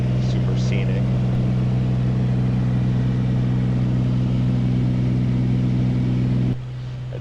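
A small airplane cruises at 9,500 feet, its engine drone a loud, constant low hum with steady harmonics that cuts off abruptly near the end, with brief faint voice-like sounds early on.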